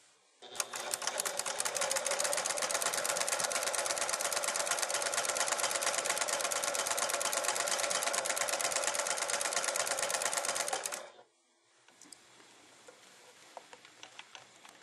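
A Swiss Elna 7100 sewing machine stitches a buttonhole in a loud, rapid, continuous chatter of needle strokes for about ten seconds, then stops abruptly, leaving faint clicks and handling sounds.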